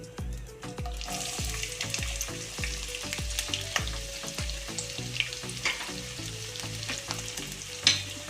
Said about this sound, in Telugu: జీలకర్ర వేసుకోవాలి ఉల్లిపాయలు వేసుకోవాలి